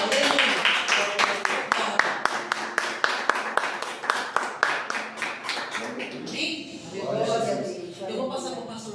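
Church congregation clapping in a steady rhythmic beat, sharp hand claps repeating about twice per second over singing and talk, then giving way to voices near the end.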